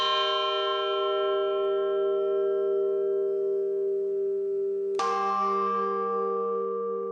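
A large cast bronze church bell rings out with a long, humming tone that slowly decays, then is struck again near the end, the fresh strike swelling over the lingering hum.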